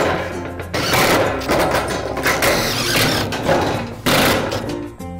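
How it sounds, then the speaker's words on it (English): Shed roof sheets for an Absco woodstore being screwed together through pre-drilled holes, with a continuous mechanical whirring and grinding of a driver running loud and close, broken by short pauses and ratcheting bursts. "join the two sheets together using our pre-drilled holes, line the holes up and screw them together"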